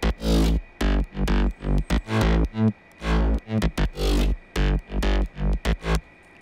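Future house mix with a bouncy bass and growl synth, choppy rhythmic stabs of deep bass and buzzing mids pulsing at a quick, syncopated pace, loud and without voices.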